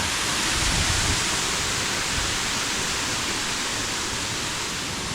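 Nakharat waterfall, set in a deep ravine, pours with a loud, steady, broadband roar that holds unbroken and close throughout.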